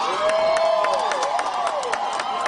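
A crowd at a political rally in Homa Bay, Kenya, for President Ruto claps and cheers, with scattered applause bursts and long rising and falling whistle-like tones over the steady crowd noise.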